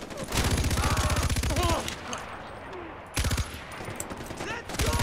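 Rapid machine gun bursts ring out in Far Cry 4, two long close sustained volleys separated by a quieter stretch, loud and dense with voices faintly mixed in.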